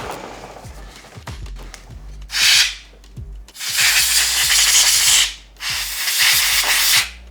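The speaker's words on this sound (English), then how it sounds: "should we blow some compressed air in it to get some of the dust I see out?" Three loud bursts of compressed air blown into an open laptop to clear out dust, each a broad hissing blast of one to two seconds, separated by quieter clicks and handling noises.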